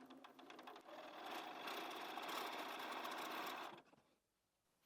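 Sewing machine stitching a quarter-inch seam on a LeMoyne Star quilt block, a steady close whirring hum that runs continuously for several seconds before stopping abruptly, followed by near silence.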